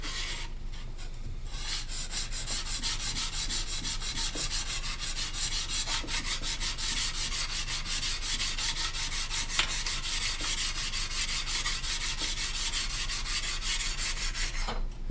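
A steel hand plane blade is rubbed back and forth on sandpaper, a steady, fast raspy scraping that continues evenly and closely throughout with no talking.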